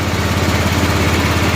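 A 1988 Club Car golf cart's gas engine idles steadily with its idle turned up, a continuous close, buzzy small-engine drone with no talk.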